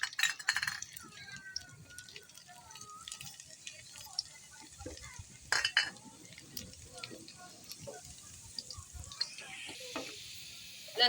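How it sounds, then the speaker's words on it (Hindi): Garlic frying in two large spoonfuls of oil for tempering mustard-greens saag, giving a soft steady sizzle with clinks and scrapes of a spoon stirring in the pan, close by and fairly quiet. "सबसे पहले हम लहसुन भून लेंगे।"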